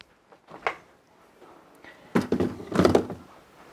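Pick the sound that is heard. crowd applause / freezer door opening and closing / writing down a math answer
freezer door opening and closing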